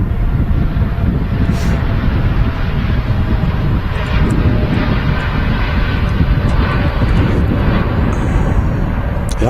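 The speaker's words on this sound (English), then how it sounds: "there we go, 2 Dreamliner on the roll" A Boeing 787 Dreamliner rolls for takeoff at a windy Manchester Airport, a loud continuous engine roar heard from a distance and buffeted by wind noise on the microphone.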